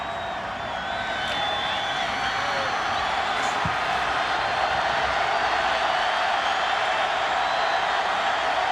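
A large stadium crowd roars steadily at the 2004 Fiesta Bowl between Ohio State and Kansas State, a dense continuous cheer with a few whoops, loud and sustained throughout.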